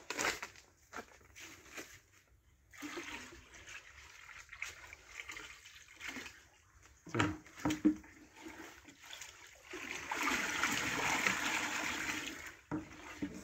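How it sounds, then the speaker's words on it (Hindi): Water poured from buckets into drums on a farm while preparing a sugarcane drenching mix: faint, uneven splashing and trickling with quiet gaps, growing into a fuller, steadier gush near the end. "चलो, एक उस ड्रम में डाल दो, एक इस ड्रम में डाल दो।"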